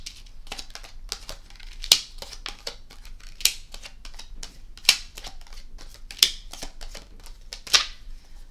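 Tarot cards are dealt and thrown onto a table, producing a quick series of crisp snapping flicks with several sharper slaps at regular intervals, close and clear, with no talking.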